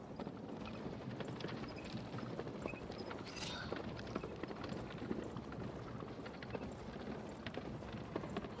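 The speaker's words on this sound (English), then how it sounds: "It is a really long horse carriage ride." Horse hooves clip-clop steadily as a carriage rolls along in the video game Black Book, a quiet, continuous trotting rhythm over a dull background rumble.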